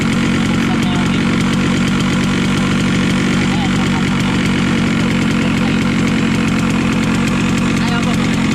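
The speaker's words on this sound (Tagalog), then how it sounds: "Nabuksan na yung engine." Rusi RXT 135 Highlander motorcycle engine idling close by, a loud, steady, even chug that runs unbroken for the whole stretch.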